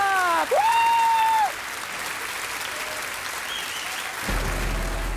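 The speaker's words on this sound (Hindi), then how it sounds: "तो तालियों के साथ स्वागत करते हैं कमाल परफॉर्मर मयूरी जी का।" A studio audience claps to welcome the performer Mayuri onstage, the applause running throughout under tonal music and effects that swoop in early, with a low rumble entering near the end.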